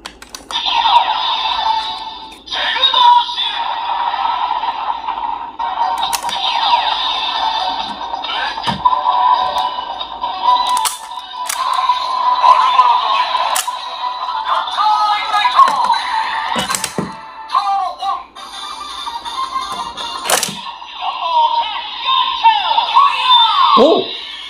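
A DX Gotcharigniter transformation toy from Kamen Rider Gotchard plays electronic henshin effects: a continuous synthetic music-and-voice sequence with clicks and sharp bursts, heard close and fairly loud.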